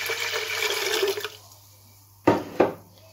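Water pours into a pot for mutton pulao in a steady splashing stream that stops after about a second, followed by two brief clunks, with no talking.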